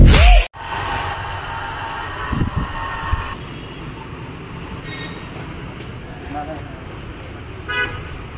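A passenger train runs along the rails, heard from on board as a continuous rumble with thin wheel squeals and short high tones, after a brief loud burst at the start.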